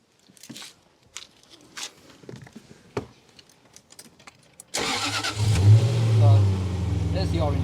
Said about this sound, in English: When you start the engine up, it starts up in petrol